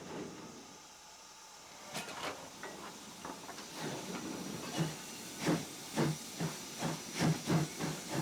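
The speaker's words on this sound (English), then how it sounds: "See the chuffing?" Steam locomotive chuffing in a train simulator game, starting with a soft hiss and then building into a steady run of rhythmic exhaust beats that grow louder and more regular toward the end. No one speaks.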